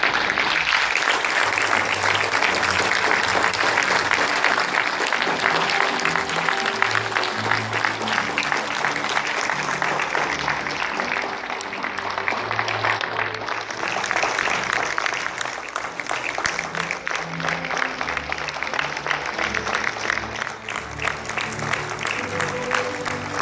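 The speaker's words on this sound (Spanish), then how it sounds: "la iglesia, la congregación, los felicitamos con un reconocimiento de palmas" A church congregation applauds graduating Bible institute students as they march out, steady sustained clapping over a low hum of music or crowd noise throughout.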